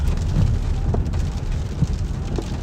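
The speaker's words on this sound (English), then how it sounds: "we about to drop right into the hail" Hail drums steadily on a storm-chasing vehicle during a tornado-threat thunderstorm, a dense, continuous clatter of hits with low rumble underneath, close and loud, with no talk.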